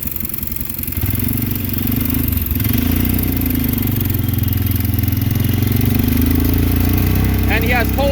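A mini go-kart's small pull-start engine runs steadily, a loud, close, buzzing putter that holds for several seconds after it catches, with a voice speaking over it.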